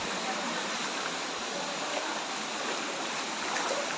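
Rushing water from a hidden cascading waterfall and stream at Saisel Punji, a steady, dense wash of noise that holds even and unbroken throughout.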